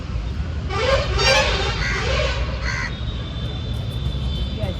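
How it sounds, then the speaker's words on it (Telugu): A crow at sunrise in Varanasi gives several raspy caws in quick succession, fairly close and clear over quiet outdoor ambience, then falls silent. "విన్నారా నేను గుడ్ మార్నింగ్ అనగానే కావు కావు అన్నది"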